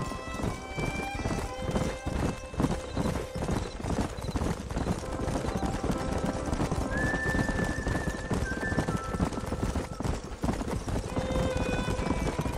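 Horses in the Red Dead Redemption video game, steady clip-clop of hooves with a neigh or whinny breaking through, close and continuous, layered over game music.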